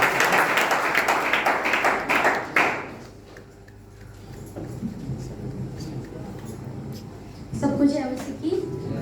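A church congregation claps to welcome a woman coming up to read during a talk on Jesus's words on the cross. A dense burst of applause lasts about three seconds, then fades to a quiet room with faint voices and movement.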